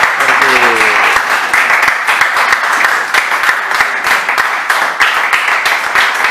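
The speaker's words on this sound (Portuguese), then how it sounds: "Com as palmas bem alegres do Senhor" A church congregation in Taquaril, Belo Horizonte, claps loudly and joyfully during praise worship in a brisk, continuous rhythm, with voices briefly audible near the start.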